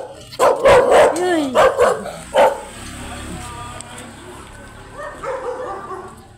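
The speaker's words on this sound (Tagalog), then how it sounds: "Uy, yung aso." A dog barks in a close, loud burst of several sharp barks early on, then things settle to quieter background noise with a faint voice near the end.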